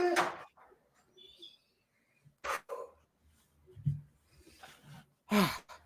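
Deep breathing before a guided spiritual meditation: several slow, airy inhales and exhales come in separate bursts with quiet pauses between them, close and fairly soft, with no words spoken.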